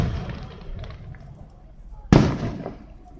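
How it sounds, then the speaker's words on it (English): Fireworks at a Glenolden display go off with a sharp loud burst partway through, crackling and echoing after, following a stretch of muffled rumbling pops; voices talk in the background. "I know, Glenolden fireworks."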